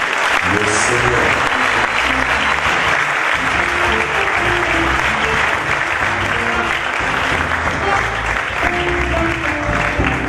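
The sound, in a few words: church congregation applauding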